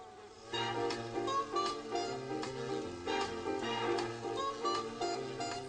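Honeybees drone in a continuous, even buzz with a steady hum and small fluctuations, lasting throughout at moderate loudness.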